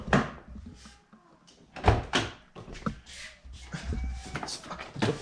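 A door rattles, thumps and is pulled open with scraping and handle clicks, amid shuffling and a few muttered words.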